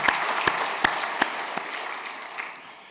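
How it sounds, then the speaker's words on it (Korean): A church congregation at a Sunday service claps to welcome children, a few sharp, distinct hand claps at first, then a softer scattering that fades out. "어린이들을 환영하는 마음으로 같이 우리 박수 한번 치겠습니다."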